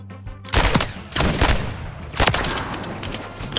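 Rapid bursts of pistol gunshots in a shooter video game on the Terminal map, three loud cracking volleys in quick succession with noisy ringing tails between them.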